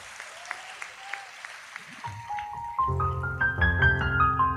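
A church congregation clapping hands during a worship service, sparse rhythmic claps at first, then joined by sustained keyboard music that grows fuller and louder.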